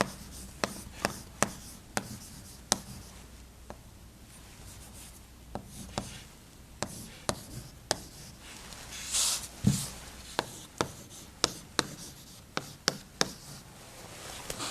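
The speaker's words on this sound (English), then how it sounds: "We simply have to write down the expression" Chalk tapping and scratching on a board as an expression is written out during a string theory lecture, a steady series of sharp clicks and short scrapes, fairly close, with no talking.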